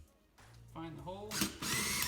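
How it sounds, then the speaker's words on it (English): A power drill with a larger bit bores an oiled bolt hole through an old wheel, the motor whine rising in pitch and then grinding harder as the bit bites into the metal, loud and close. "I'm going to go over to a little bit bigger drill bit."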